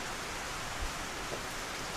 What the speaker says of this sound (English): Well, that rain is coming in now.